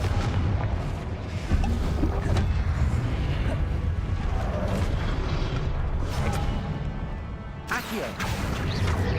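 Repeated blasts from the Confringo fire spell in Hogwarts Legacy, booming and crashing over a dense, loud mix of game effects and music throughout, with a sharp burst near the end.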